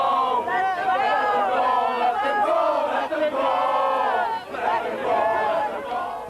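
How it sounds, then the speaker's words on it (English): An angry crowd outside South Sefton Magistrates Court, Merseyside, roars and jeers in rising, surging waves of shouting voices, loud and close. "This was a string him up crowd."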